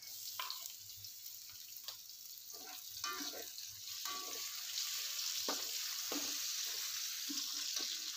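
Chillies fry with shallots in hot oil in a pan, giving a steady close hiss and sizzle throughout, punctuated by occasional stirring scrapes and taps of a spatula.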